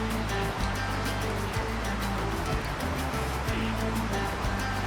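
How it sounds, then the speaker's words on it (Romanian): Water gushing out of rock at a karst spring near a cave in the Apuseni Mountains, a steady, close roar of rushing water with some low rumbling underneath. "Asta e un alt izbuc, unde iese apa tot așa din stâncă."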